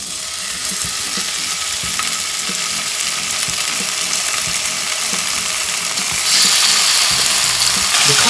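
Thin pork slices sear in a little hot oil in a pan for ginger pork, a steady dense sizzle running throughout with no talk, swelling slightly louder near the end.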